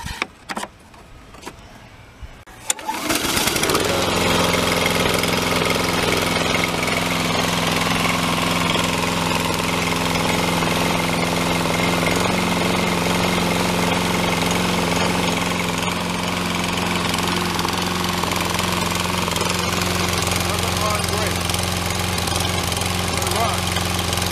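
A small engine, freshly serviced with new oil and a new air filter, is cranked after a few seconds of quiet and then runs loud and steady without a break, idling a little rough.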